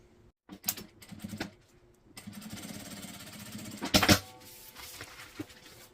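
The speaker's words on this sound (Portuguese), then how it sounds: "vou alinhar com a lateral e fazer uma costura de segurança, tanto desse lado quanto do outro" A sewing machine stitches the side seams of a fabric makeup bag in short close bursts, with a longer mechanical run in the middle, separated by handling noises and pauses.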